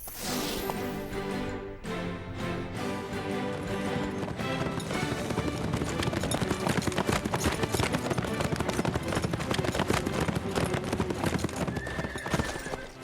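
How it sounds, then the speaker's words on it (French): Cartoon horses from the Horseland series break into a gallop across a meadow, a rapid, loud, continuous drumming of hooves with whinnies, layered over bright background music. "On va faire galoper les chevaux."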